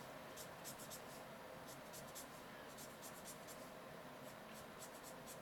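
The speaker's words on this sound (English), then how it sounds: "my marker is drying out a bit, so I'm using that to my advantage here and just sketching out coloring on here" A drying marker rapidly sketches and colors graffiti letters on paper. Quick scratchy strokes repeat in bursts close to the mic over a steady hiss, with speech mixed in.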